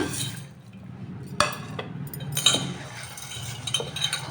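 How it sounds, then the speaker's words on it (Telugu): Sorghum grains being washed in water make soft sloshing and swishing, with a few sharp clinks against a metal vessel, close and moderately quiet. "వాటర్ వేసి ఒకటి రెండు సార్లు నీట్గా కడుగుదాము"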